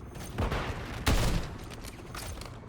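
Several shots crack out in a shooter video game, with a strong burst near the middle and scattered quieter reports around it, no talking.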